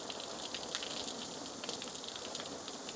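Garden hose spraying water onto a rooftop tent, a dense even patter like heavy rain drumming on fabric, steady and fairly faint throughout.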